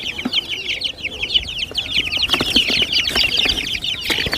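Two-month-old chicks cheeping and clucking in a dense, continuous chorus close by, with faint rustling underneath.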